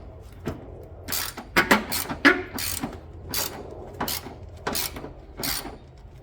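A ratchet on a long extension removing transmission mount bolts on a 2008 Ford Focus, with repeated close clicking ratchet bursts in quick uneven strokes and no talk.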